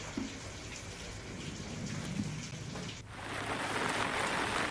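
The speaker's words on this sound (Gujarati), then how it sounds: "ધીમી ધારે વરસાદ થયો" Gentle, steady rain falls across Porbandar district in Gujarat, a continuous soft hiss that grows slightly denser and louder partway through, with no voices.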